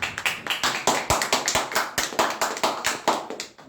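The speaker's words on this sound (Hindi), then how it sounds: "ताली बजा देना भैया" Audience clapping hands at a Hindi product demonstration, a brisk run of sharp, fairly close claps lasting a few seconds without speech.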